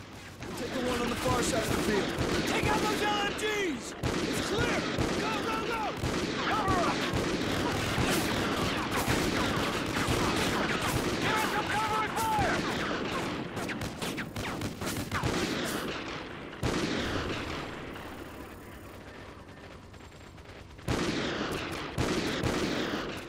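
Sniper rifle shots and other gunfire in Call of Duty Ghosts, with loud sharp reports spread through dense game battle noise and music, and a player talking over it.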